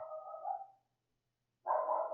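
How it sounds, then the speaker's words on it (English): A dog barks twice, close and fairly loud, each bark a drawn-out cry separated by about a second of silence. "dog's barking"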